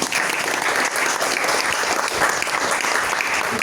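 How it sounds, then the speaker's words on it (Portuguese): An audience at a poetry evening in a public library in Jaboatão dos Guararapes applauds the academy president, loud, close, sustained clapping from many hands without a break. "As palmas para o Tony."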